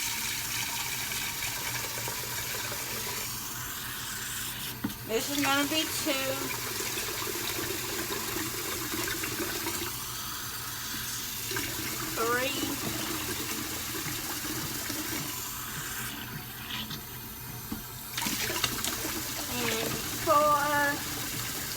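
Water is poured cup by cup into a modest-sized cooking pot in a home kitchen. Several separate splashing pours rise in pitch as they fill, with quiet pauses between them and a voice speaking and counting in between.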